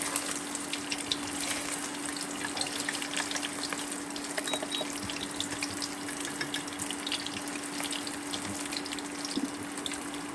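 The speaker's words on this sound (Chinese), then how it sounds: "油溫燒熱，我們下入這個糍粑。 炸脆，炸軟。" Glutinous rice cakes deep frying in hot oil in a home kitchen, a steady, faint crackling sizzle with a low electrical hum beneath and no voices.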